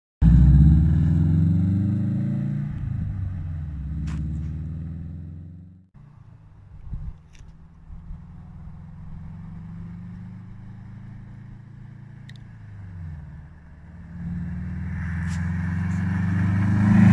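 Loud, deep exhaust drone from a 2015 Subaru STI with its mufflers removed, heavy and steady at first, dropping off briefly, then rumbling on and swelling louder again near the end, with no talk.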